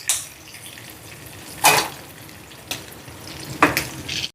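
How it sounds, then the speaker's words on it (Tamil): Fish frying in oil for a home-cooked fish fry, a steady low sizzle with a few louder bursts of spatter and stirring, heard up close with no voices. "அங்கே மீன் பொரிபடுது."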